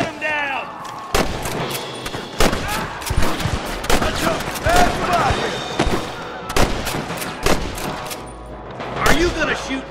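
Rapid gunfire from a Red Dead Redemption mission fight against rustlers, many sharp cracking shots in irregular bursts, some overlapping, with faint game voices and background ambience beneath.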